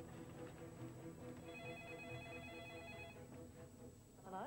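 A telephone rings steadily and fairly softly, its warbling tone running continuously through the moment with a brief rising burst at the very end, no voices over it.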